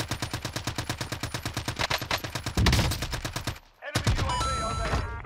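Rapid automatic gunfire in Call of Duty Warzone, a fast, steady string of close, loud shots that breaks off near the end, followed by a brief pause and then a clattering burst of game sound.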